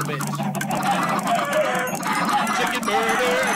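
Chickens in a video game cluck and squawk continuously in a dense flock, loud and close throughout the short stretch, with a voice faintly mixed underneath.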